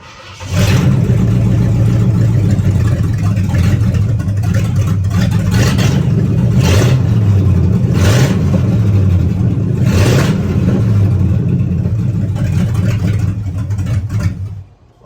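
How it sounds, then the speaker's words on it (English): A barn-find Ford Edsel engine runs with an open exhaust manifold. It gives a loud, rough, continuous roar with repeated revs rising and falling over about fourteen seconds, then cuts off abruptly. "it's open manifold, so the exhaust is coming from way up there"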